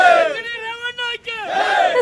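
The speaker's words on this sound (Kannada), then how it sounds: "ಪರಪ್ಪನ ಅಗ್ರಹಾರ ಜೈಲಿನ ಬಳಿ ಕಾರ್ಯಕರ್ತರು ಜಮಾಯಿಸಿದ್ದಾರೆ, ಜೈಕಾರ ಕೂಗ್ತಾ ಇದೆ" JDS party workers outside Parappana Agrahara jail chant victory slogans together, drawn-out rising and falling calls from a close crowd with short breaks between phrases.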